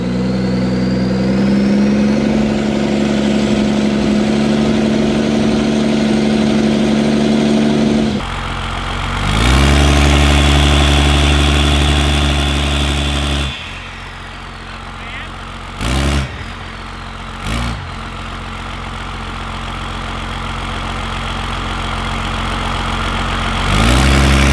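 12 valve Cummins diesel truck doing a hand-throttle burnout, the engine droning loud and close, surging up in pitch several times and then climbing steadily, with a few sharp drops in between.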